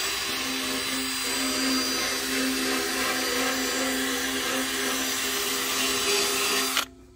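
A cordless power tool with a brush attachment scrubs an aluminum oil pan for a forklift, a steady high whine and grinding hiss held for several seconds before cutting off abruptly near the end.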